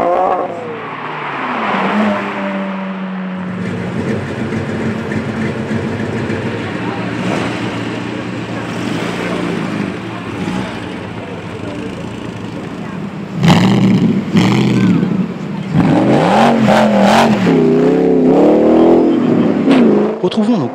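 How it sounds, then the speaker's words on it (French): Classic sports car engines, including a Ferrari, rev and roar at the start of the 17th Rallye de Paris in Poitiers. A steady engine drone builds into loud revving near the end, while someone narrates over it. "celle des belles mécaniques vrombissantes"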